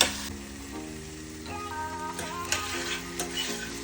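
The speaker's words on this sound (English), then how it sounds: "You want to caramelize those onions and those green peppers." Onions and green peppers sizzle and fry in a pan as they caramelise, a steady close crackle with faint ticks and stirring, accompanied by a sustained tonal hum throughout and no speech.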